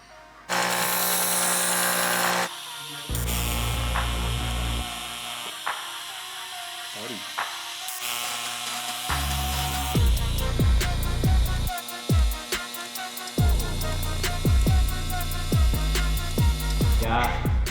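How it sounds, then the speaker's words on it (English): Welding out a patch panel on a car body, with bursts of crackling, buzzing arc noise broken by short pauses and mechanical clicks, loud and close throughout. "We're going to weld this patch out and see how it goes."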